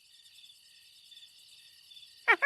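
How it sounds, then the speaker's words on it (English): A single cricket chirps in a cartoon, giving steady, rapid high trills in a quiet room, with a brief voice cutting in at the very end. "Oh, that's a nice recording of a cricket."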